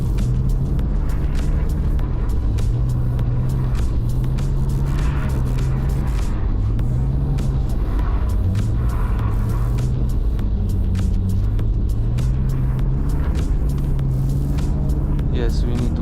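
A BMW E46 drifting on a snowy road, its engine revving up and down in repeated surges under a steady road rumble, with people talking in the car over the sound.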